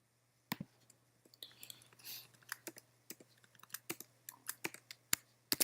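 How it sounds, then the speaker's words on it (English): Quick, light clicking of computer keyboard keys while typing code, irregular bursts of close keystrokes over a faint steady hum, with no talking. "I'm gonna type class meta"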